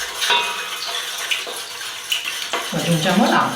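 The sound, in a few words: stirring alum into water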